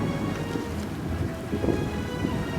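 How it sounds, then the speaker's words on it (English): Steady rain falling in the Alaskan wilderness, a dense continuous wash of drops with low rumbling gusts beneath, even and unbroken throughout. "it was a steady rain."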